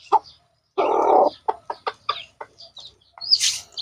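Chickens being fed cluck and squawk up close: a sharp call, a longer loud squawk, then a run of short clucks and a high chirp at the end, with no talking.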